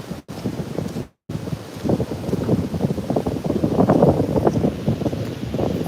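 Strong wind buffets the microphone on a Thailand beach, a continuous loud rushing roar that swells and gusts, cut by two brief dropouts near the start, with no talking.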